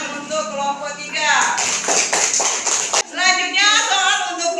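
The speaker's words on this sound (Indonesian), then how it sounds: "Tepuk tangan untuk kelompok 3." Second-grade children in a primary school classroom clap for a team, a burst of dense, bright hand claps in the middle, with a child's and a teacher's voices speaking before and after it.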